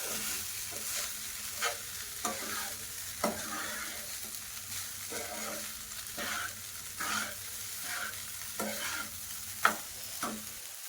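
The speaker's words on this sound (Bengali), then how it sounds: "2 মিনিট নাড়াচাড়া করে ভালো করে সব কিছু মিক্স করে নেব।" Leftover rice is stirred into vegetable fried rice in a pan, with a soft steady sizzle broken by repeated rhythmic scraping strokes of a spatula about once a second. No one speaks.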